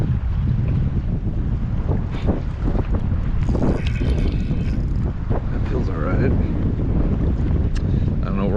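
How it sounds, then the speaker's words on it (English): Strong wind buffets the microphone during kayak fishing for fluke off New York City, a loud continuous roar with gusts and water sloshing around the boat, and a voice is faintly heard under it. "it seems like we're all in with this wind now"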